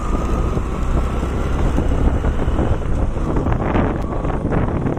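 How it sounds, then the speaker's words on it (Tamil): Wind blowing outdoors on a dull, sunless evening, a loud continuous rumbling buffet across the microphone with no talk. "காற்று இருக்கு"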